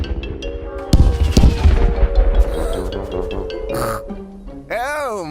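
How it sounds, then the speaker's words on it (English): Loud cartoon fireworks burst in a quick cluster of sharp bangs during a Peppa Pig New Year's episode, followed by sustained crackling and a rising whistle-like tone, with cartoon voices and pig-like snorts woven through. "And now it's time for the big fireworks."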